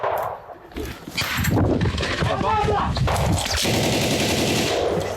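Bursts of automatic gunfire crack loudly and close in urban fighting in Bakhmut, Ukraine, mixed with scattered single shots while people talk and shout over the fighting.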